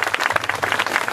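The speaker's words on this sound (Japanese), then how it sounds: "ぜひ皆さん温かい拍手をよろしくお願いいたします。" Warm applause from a school brass band concert audience, a dense patter of many hands clapping continuously throughout.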